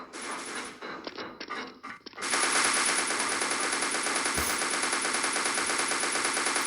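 Rapid automatic gunfire erupts in a zombie shooting video game, loud and continuous after a few scattered shots, a steady rattling burst that runs to the end without speech.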